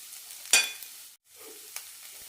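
Cabbage frying and being stirred in a pan: a sharp scrape and sizzle burst, a moment of silence, then a quieter sizzle with another light stir.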